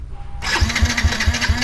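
A Yamaha Jupiter Z motorcycle at an auction lot fires up with its key, the engine catching abruptly and settling into a loud, close, lumpy idle with regular low thumps.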